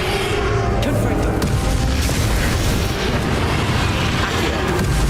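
Confringo spell blasts in the game Hogwarts Legacy, loud booming explosive rumble that fills the whole stretch, with a voice speaking over the din.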